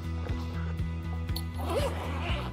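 The zipper on a TOPDON zip-up carrying case with a handle, holding a BT600 battery tester, is drawn open in several quick rasping pulls, close and clear, with a low steady hum underneath.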